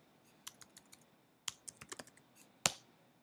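Keystrokes on a Mac computer keyboard as a terminal command is entered, a sparse run of close, crisp clicks with a sharp final keypress.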